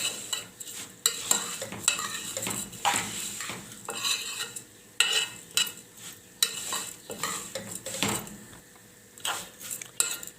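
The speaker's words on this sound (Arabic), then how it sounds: "ودايما تقلبي عشان ولا اللسان يتحرق ولا الشعريه تتحرق منك" Orzo and vermicelli toast in a pan over a steady sizzle while a spoon stirs repeatedly, with sharp scrapes and clinks of metal against the pan sounding close and fairly loud.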